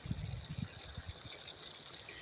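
Water poured onto a potted plant during air-layering work trickles and splashes into the soil in a steady, close stream, with soft irregular low thumps of liquid hitting the surface.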